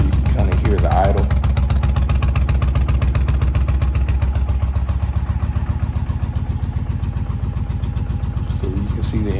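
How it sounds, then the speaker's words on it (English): Motorcycle engine idling steadily and loudly up close, a continuous low rumbling throb with slight variation as the recorder moves around the bike. "Just gonna walk around the bike a little bit so you can kind of hear the idle."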